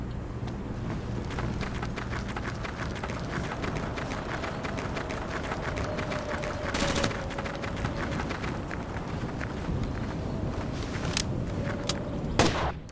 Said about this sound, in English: Keep an eye out for hostile fire from the catwalks.